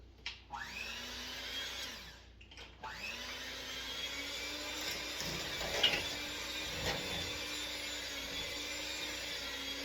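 A steady electric mixer whirs through a bowl of chocolate pudding mix and milk, starting and stopping briefly at first, then running as a continuous close, even motor whine.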